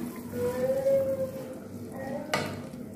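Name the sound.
stirring Balinese pork in soy sauce in a pot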